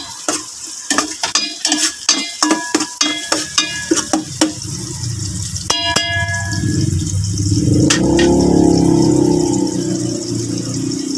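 Onion, garlic and ginger sautéing in a pan, first a rapid series of metallic scraping and clanging strokes from stirring, then a loud, steady sizzle close by.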